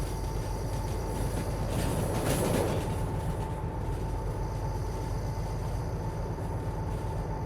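A train rolling on rails in the video game Derail Valley, heading downhill at around 40 speed, a continuous loud rumble of wheels with a brief brighter squeal burst early on, no talking.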